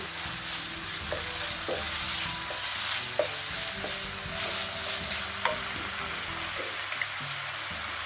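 Spring onion cut into rounds frying with minced meat in a pan, a steady close sizzle with occasional clinks and scrapes of stirring, no talk.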